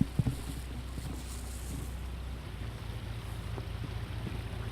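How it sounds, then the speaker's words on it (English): A lobster boat comes into the dock, its engine a low, steady rumble at a distance, mixed with wind and open-water ambience. "This is the boat coming into the dock right now."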